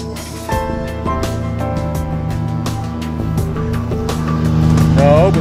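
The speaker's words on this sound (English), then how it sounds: "Lawn cutting machine." A lawn cutting machine runs steadily outdoors at an arboretum, with a continuous mechanical engine drone and a slight rise in loudness toward the end.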